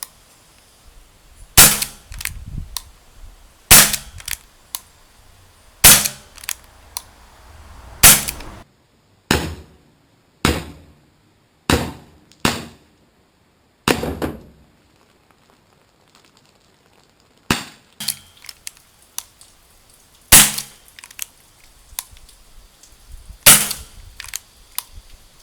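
Sharp cracks from a Combat Zone 2 joule airsoft pistol ring out one at a time. About fifteen loud shots come at irregular intervals with near-silent gaps between them, and no voices are heard.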